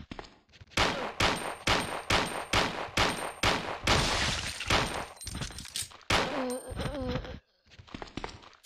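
Rapid gunfire from aiming and shooting in Resident Evil 3 with a mod, a steady run of loud, evenly spaced shots that keeps up for several seconds before cutting off, with a few scattered shots at the end and no talk.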